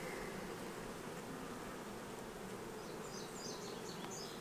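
Honeybees buzz around frames lifted from a hive during a summer split, a dense, continuous hum with individual bees darting close by.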